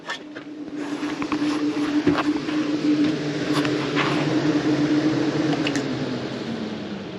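A Maxxair roof vent fan runs inside a van, a steady close whirring drone with a constant low hum and airy rush that holds evenly throughout, with faint ticks and rustles on top.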